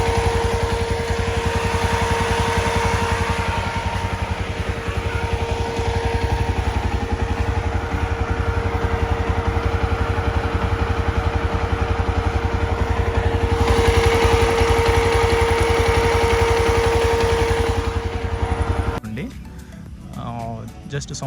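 A Yezdi Adventure motorcycle idles steadily and loudly with a noisy radiator fan running, a constant hum and whir that continues unbroken before cutting off abruptly near the end.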